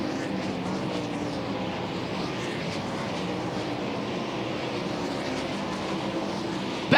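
World of Outlaws sprint cars roar around the Charlotte dirt track near the final lap, a steady, dense engine drone with no break, swelling slightly at the very end.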